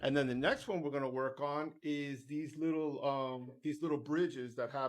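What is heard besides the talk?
No everyday noises stand out.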